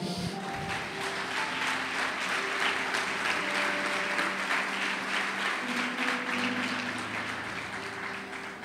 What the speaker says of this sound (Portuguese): Fica de pé e aplauda o Senhor